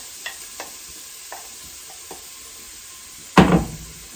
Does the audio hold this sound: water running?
no